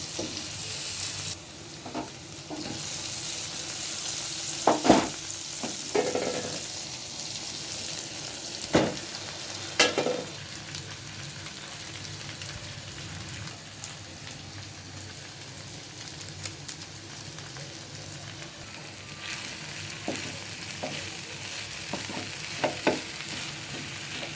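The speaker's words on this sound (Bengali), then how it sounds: "টমেটো আর ফুলকপি, ডিমটা দিয়ে দিলাম।" Egg frying with tomato and cauliflower in a pan gives a steady, rain-like sizzle that runs throughout, with a few sharp clicks and scrapes of a spatula; no voices.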